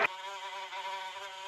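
A housefly buzzes continuously right beside a lion's ear, a steady whining drone that stays close and fairly loud for the whole moment after a brief sharp onset.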